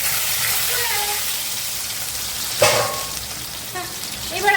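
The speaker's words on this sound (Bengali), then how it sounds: "এবার আলুটাকেও আমি লাল করে ভেজে নিই।" Potatoes frying in a pan after spices are tempered, a steady soft sizzle with an occasional stir or clatter, moderately close, with a voice talking over it.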